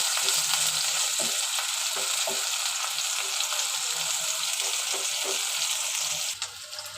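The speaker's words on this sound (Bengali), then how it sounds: "পেঁয়াজটা একটু ব্রাউন করে ভেজে নেব।" Chopped onions fry steadily in a pan for dried-fish bhuna, a dense, continuous close sizzle with a few soft stirring knocks, dipping slightly near the end.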